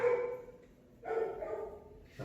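A single dog gives two moderately distant barks about a second apart, each a short toned yelp with a brief hum of room noise between.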